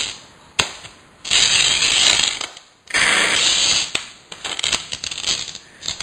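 Glass being slid into place in a Route 3 glass hack: two sustained scraping, sliding bursts with clicks and knocks between them, close and fairly loud, no talking.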